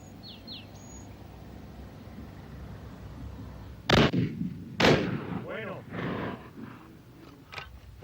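Shotgun-style gunshots at an outdoor clay shooting club with twelve stands near Mojácar, Spain, two sharp loud reports about a second apart ringing out over open ground, with faint birdsong and background hiss.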